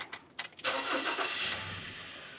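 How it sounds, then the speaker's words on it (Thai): A Ford Ranger Wildtrak 2.2 pickup truck engine cranks with a few short bursts, then catches and settles into a steady, fairly loud idle. "เดี๋ยวผมลองสตาร์ทเครื่องยนต์ ฟังเสียงการทำงานของเครื่องยนต์"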